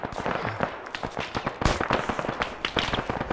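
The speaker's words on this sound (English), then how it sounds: "We're getting ricochets." Video game gunfire crackles in a rapid, uneven string of sharp pops, with a heavier impact in the middle and bright pinging hits that fit bullet ricochets, steady and close throughout.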